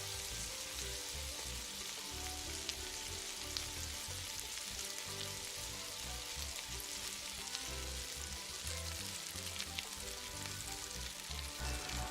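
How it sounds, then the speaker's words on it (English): Diced onion sautéing in hot vegetable oil, giving a continuous crackling sizzle that is close and soft and steady throughout, with faint utensil ticks and no voices. "When the oil is hot, add in the diced onion. Sauté the onion for about 1 to 2 minutes until translucent."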